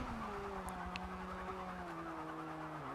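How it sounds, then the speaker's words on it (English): A Volkswagen race car in Forza Motorsport 7 brakes hard, its engine note winding steadily downward for three seconds with a faint tyre scrub, loud and continuous with no one talking. "Braking could be better on this VW."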